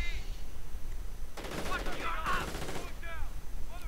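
Bursts of rifle and machine-gun fire crackle as assault grenadiers and panzer grenadiers attack riflemen in a WWII video game, with fusillades in the middle of the clip and distant shots around them.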